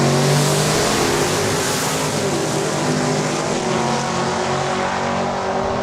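A Mustang drag racing at Saskatchewan International Raceway roars past with a loud, sustained engine blare that slowly fades.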